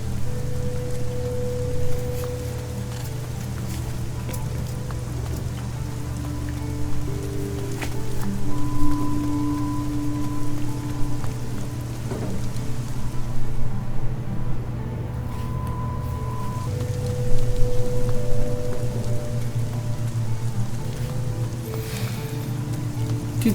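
Rain falls steadily in a video game, a dense continuous hiss with low rumbling ambience underneath and faint tonal game sounds scattered throughout, no talk.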